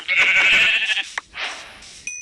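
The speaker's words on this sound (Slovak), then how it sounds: "Tam je ovca." A sheep in a Minecraft-style video game gives a loud, close, nasal bleat lasting about a second, followed by a shorter second bleat, with no talking.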